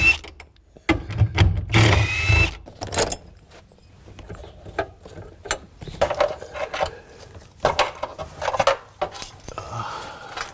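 A hand ratchet working on parking brake cable fasteners under a car during an Integra Type R restoration, with short clicking bursts and metallic clatter separated by quiet pauses.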